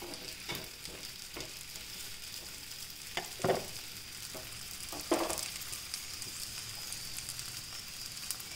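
Moong dal rolls frying in oil in a pan give a steady, soft sizzle throughout, with a few brief louder crackles and bursts as they are turned.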